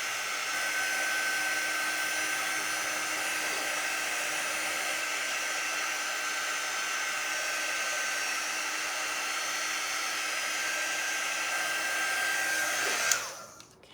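A hair dryer drying paint on a personalized door round runs steadily and loud for about thirteen seconds with a constant whine, then cuts off abruptly near the end.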